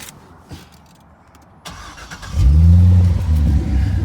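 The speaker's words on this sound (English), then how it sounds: "When you start the car," A Chevrolet Corvette C6 engine cranks and fires, then settles into a loud, deep idle close by, with no speech.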